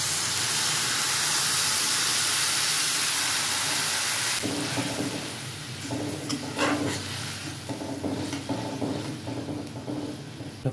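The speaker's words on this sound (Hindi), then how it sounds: "इसमें डाल देंगे आधा कप पानी," Half a cup of water poured into sizzling sprouted mung bean curry in a pan: a loud steady hiss of steam at first, then it drops to softer bubbling with scattered crackles.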